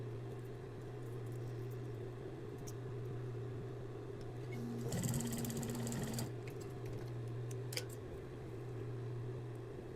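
A sewing machine stitches a straight seam to close a small opening on a basic strap tank top, with a low steady motor hum throughout and a short louder burst of stitching in the middle.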